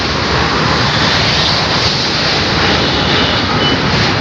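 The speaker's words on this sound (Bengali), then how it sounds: "ট্রেনটা গাইস খুবই আস্তে আস্তে যাচ্ছে" A train rumbles slowly across the Vivekananda Setu (Bally Bridge) in Kolkata with a dense, steady roar of wheels and engine, loud and close throughout.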